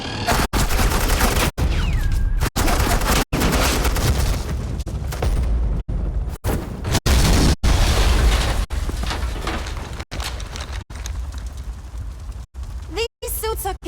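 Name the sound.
suppressing gunfire in the Batman video game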